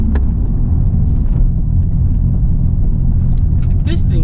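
A tuned R32 GTR with HKS parts and all-wheel drive roars hard while accelerating in third gear with the tires breaking loose, a loud, sustained rumbling engine note with brief sharp squeaks near the end and no talking.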